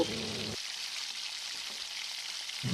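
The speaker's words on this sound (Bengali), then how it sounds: "বাকি তেলের মধ্যে আগে থেকে কেটে রাখা আলুগুলো দিয়ে সেগুলো হালকা লালচে করে ভেজে তুলে নেব" Potatoes frying in oil give a continuous, crackling sizzle close by, holding steady for the whole stretch with no voices over it.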